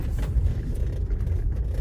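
A low, steady engine rumble from a car with metal filings in its Delphi injection pump, idling or moving slowly downhill in first gear, muffled and fairly quiet.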